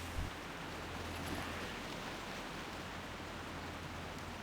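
Steady rain hisses softly and evenly in a video game, a faint wash of falling drops with a low hum underneath and no voices.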